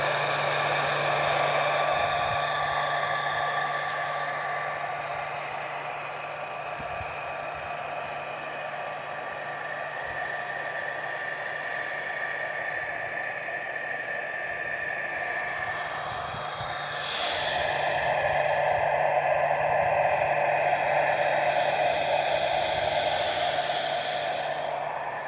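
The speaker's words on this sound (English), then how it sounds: "I'm going to go ahead and use the heat gun." A heat gun blows hot air over heat shrink tubing on a welding ground clamp cable, a steady close whirring hiss that runs throughout and grows louder near the end.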